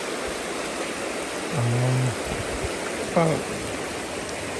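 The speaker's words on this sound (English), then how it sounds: "Hello from Troublesome Creek" Troublesome Creek off the Parks Highway in Alaska rushes with a loud, steady broadband wash of flowing water that fills the whole scene, while a voice speaks briefly over it.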